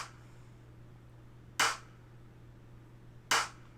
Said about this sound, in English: It sounds like a clap. It's like a snare and a clap.